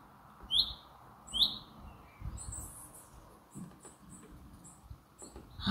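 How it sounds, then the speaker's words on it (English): A wild bird sings outside a camper van at a wild camping spot, two sharp high chirps early on then fainter calls, moderately distant over low outdoor rumble. "that bird is right pissing me off"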